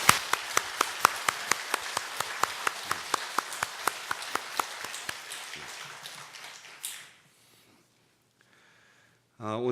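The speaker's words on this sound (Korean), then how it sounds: "가족들 여러분 다 같이 축하의 박수 보내주십시오." Congregation in a church applauding to congratulate a newly married couple and their family: dense, steady clapping with sharp individual claps standing out, fading away after about seven seconds, then near silence.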